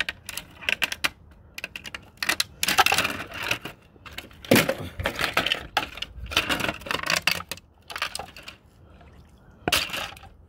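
A part is pried and ripped off a TV being smashed, with sharp plastic cracks, snaps and clattering bursts in uneven clusters, loud and close, with no talking.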